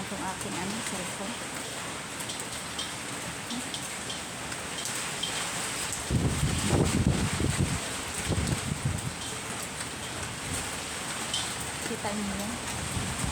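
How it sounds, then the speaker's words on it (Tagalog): Heavy typhoon rain in Taiwan pours in a continuous loud hiss, with wind gusts and splattering drops close by; someone speaks briefly over the downpour. "Mga kapsito, ang lakas ng hangin"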